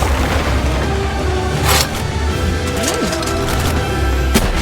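Gunfire and explosions in the creature-catching game Palworld during a boss fight come as a dense, loud barrage of booms and shots over steady game noise. A few sharper cracks stand out along the way.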